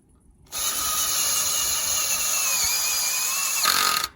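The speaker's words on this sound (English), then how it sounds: "like I do the drilling, and you steady it for me" A power drill boring a bolt hole starts abruptly after a short quiet moment, then whines steadily at high pitch for several seconds before stopping, close and loud with no voices over it.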